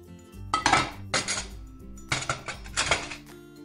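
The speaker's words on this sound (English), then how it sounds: "Plate." Kitchen plates clatter and clink in two clusters of bright ceramic knocks over a steady background tune, with no voices.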